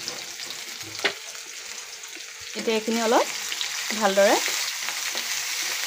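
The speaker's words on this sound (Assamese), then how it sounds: "ৰঙচুৱা হোৱালৈকে ভাজি ল'ম।" Chopped onions fry in hot oil with two dried chillies and garlic, a steady close sizzle with occasional stirring scrapes, while someone talks over it.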